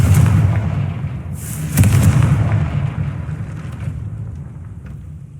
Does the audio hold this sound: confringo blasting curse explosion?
yes